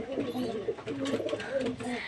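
A group of pigeons feeding together from a bowl coo steadily and close by, their low, warbling calls overlapping throughout.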